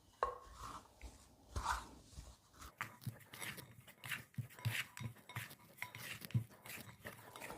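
A bench scraper works flour into milk bread dough in a bowl, making soft, irregular scraping, rubbing and dull tapping strokes. The sounds are quiet and close, with no talking.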